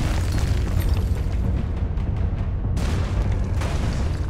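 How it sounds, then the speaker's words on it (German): A cannonball blast in Alice: Madness Returns, heard as a heavy rumbling boom that sustains throughout, with bursts of crackling debris. "Die Kanonenkugel reißt das Ding auch raus"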